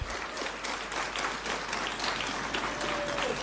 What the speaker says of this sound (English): we give them the biggest round of applause